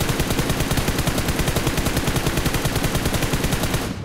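Rapid automatic gunfire in the video game BGMI, a loud, even stream of closely spaced shots that runs without pause for about four seconds before cutting off.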